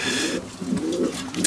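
Pigeons kept for breeding coo nearby in a couple of soft, throaty rolling calls over a faint background hiss.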